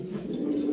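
A Lahore pigeon, a European-standard male, gives a soft, low, brief coo, close and quiet.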